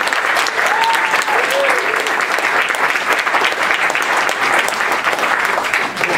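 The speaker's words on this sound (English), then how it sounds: "Let's give Jerry a big round of applause." A roomful of people gives comedian Jerry Corley a big round of applause, loud dense clapping that holds steady throughout, with a few faint voices calling out beneath it.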